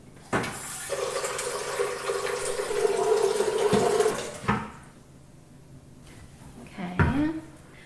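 Water running from a tap into a blender jug for homemade vegan strawberry almond milk, a steady hissing pour lasting several seconds that stops abruptly, followed by a quieter pause and a brief clunk.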